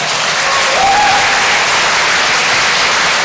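Steady, dense audience applause fills the hall after a Kazan Federal University combined orchestra performance at a science-night opening ceremony, loud and continuous throughout with no break.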